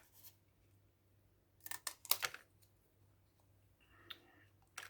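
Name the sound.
scissors cutting paper into a strip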